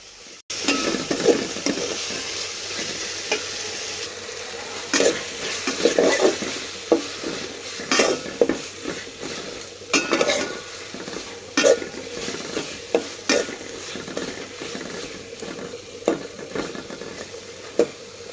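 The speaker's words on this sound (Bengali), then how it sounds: "এখন আমি এই টমেটোকে কিছুক্ষণের জন্য ভেজে নেব" Chopped tomato frying with onion and chilli in a pan for a spicy tengra fish curry, with a steady close sizzle broken by repeated scraping stirs of a spoon.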